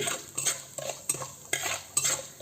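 Mustard seeds, urad dal and curry leaves frying in hot oil for Andhra gongura pachadi, with a spoon scraping and stirring in bursts of about every half second over a soft, steady sizzle, close and moderately quiet, with no voices.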